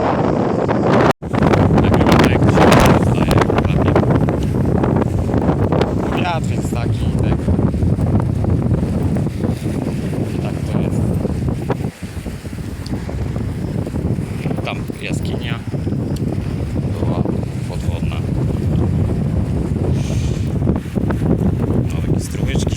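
Strong seaside wind roars and buffets the microphone continuously, loud and close, with a person talking through it.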